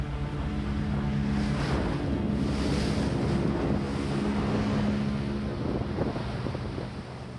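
A motorboat runs out on the open sea, its steady engine drone carried under strong wind buffeting and the wash of waves against the hull, continuous and close throughout.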